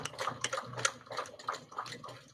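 A domestic sewing machine back stitching the corner of a tote bag, with quick rhythmic ticking bursts of needle strokes, close and fairly quiet, starting and stopping in short runs.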